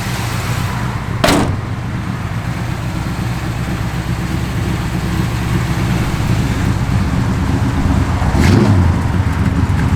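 A 1969 Plymouth Road Runner with a 440 engine rumbles steadily at idle, with a sharp door-like clunk early on and a brief swell of revving near the end.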